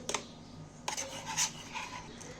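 A spoon scrapes and clinks faintly against a pot while liquid is stirred, with a few light rasping strokes.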